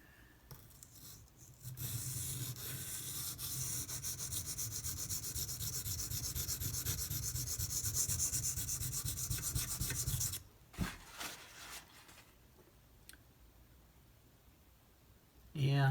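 A Kershaw Launch 11 knife with an off-center factory plunge grind is stroked steadily across a sharpening stone, a continuous gritty rasping that runs for several seconds before stopping, followed by a few softer scrapes and a brief sound at the end.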